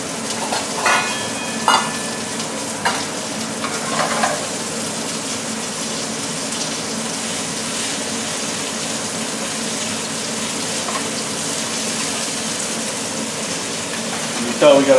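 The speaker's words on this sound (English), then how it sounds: "I'm going to let my other chicken sear off a little bit more and get that nice caramelization on the outside." Chicken sears in a hot frying pan with a steady, broad sizzle, joined by a few brief clinks and stirring noises near the start and a louder burst at the end.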